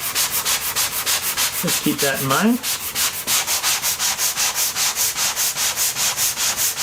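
Rhythmic sanding strokes scrub across oak cabinets to remove a dried layer of homemade wood grain filler, a steady back-and-forth rasp close by, with one short spoken remark midway.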